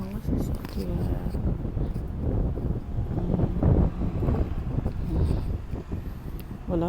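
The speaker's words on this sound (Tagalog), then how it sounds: "Oh, shit, ang lakas ng hangin." Strong gusting wind during a Canadian snowstorm buffets the microphone in rough, uneven surges while a person talks over it.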